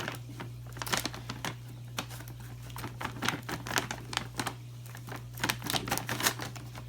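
Scissors snip and crinkle through a plastic bag of aquarium clay for a Fluval Spec V planted tank, in quick irregular bursts of cutting and rustling, close and fairly quiet.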